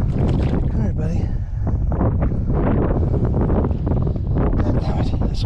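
Wind buffeting a microphone aboard a Jackson Big Rig fishing kayak, loud continuous rumbling gusts, with someone talking over it.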